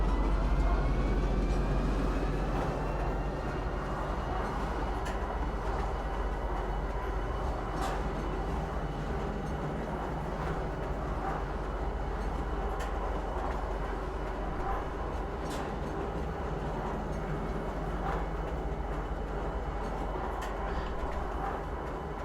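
Steady rumbling metro train ride in the space game Star Citizen, a continuous loud roar with faint rail clicks and creaks throughout, no voices over it.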